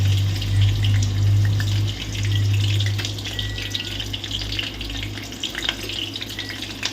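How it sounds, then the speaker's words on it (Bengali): Chopped green chillies hit hot oil in a pan, giving a steady crackling sizzle with a loud low bubbling surge at the start that settles into continuous frying hiss, no voices. "এবার এই তেলের মধ্যে আমি দেব কাঁচা লঙ্কা, যেটা আগে থাকতেই আমি কুচিয়ে রেখেছি।"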